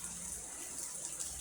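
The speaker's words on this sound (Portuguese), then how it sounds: "vou acrescentar aqui aos poucos, para não empelotar, uma xícara de água" Room-temperature water trickles faintly and steadily into a bowl of batter for a fried chicken-filled crispy cone snack, a quiet continuous splashing hiss with no speech.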